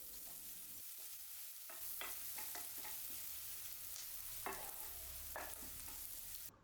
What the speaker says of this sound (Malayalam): ചെറിയ ടൈപ്പ് വെളുത്തുള്ളിയാണ്, അതൊന്ന് ചതച്ച ശേഷം ഇതിലേക്ക് ഇട്ട് കൊടുക്കുക. വെളുത്തുള്ളിയുടെ ആ ഒരു പച്ച മണമൊന്ന് മാറുന്നത് വരെ 1 മിനിറ്റോളം ഇളക്കി കൊടുക്കുക